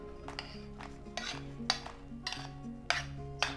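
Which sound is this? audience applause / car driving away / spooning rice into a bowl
spooning rice into a bowl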